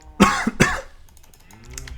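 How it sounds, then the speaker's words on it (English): Two sharp coughs in quick succession from a person near the microphone, followed by faint clicking and a brief murmur afterward. "apologies, YouTube, for the cough"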